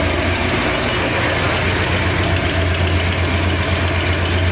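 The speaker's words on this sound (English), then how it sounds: "I got an exhaust leak up front." A 1968 Ford Torino idles with an exhaust leak at the front manifold and a troubled carburetor, giving a steady, close, loud rumble with a ticking, knocking pulse running through it and no voices.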